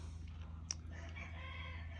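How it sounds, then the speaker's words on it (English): Chickens on a neighboring chicken farm, a rooster's crow standing out over a steady low hum, with faint clucking and birdsound in the background. "my neighbor has a chicken farm"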